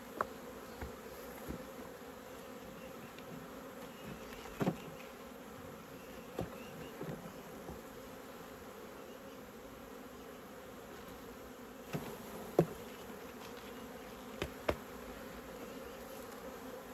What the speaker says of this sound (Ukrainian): Бджоли дуже багато.